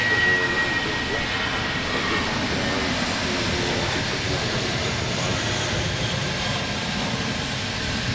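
Embraer E-175 jets taxiing and departing at Portland International Airport, a steady loud roar of jet engines sustained throughout, with faint voices talking underneath.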